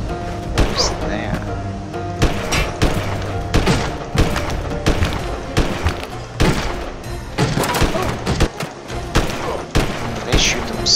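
Gunfire in the Windforge game, a series of sharp, punchy shots and thuds fired in irregular clusters, fairly close, with someone talking over much of it.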